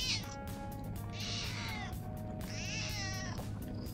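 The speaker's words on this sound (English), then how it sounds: "Why does it sound like you're torturing a cat?" A cat character in Persona 5 Royal lets out drawn-out, wavering yowls, two long strained cries following a shorter one, loud and close over steady game background music.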